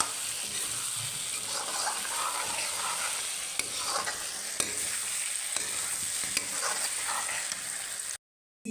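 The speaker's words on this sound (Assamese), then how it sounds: "এতিয়া মছলাখিনি মই ভালদৰে লৰাই দিছোঁ। ইয়াৰ পৰা মাংসখিনি খুব ভালদৰে ফ্ৰাই হৈছে।" Masala with chicken pieces being stirred in a pan as they fry, a steady sizzle with scraping spoon strokes throughout, Assamese chicken gravy in the making.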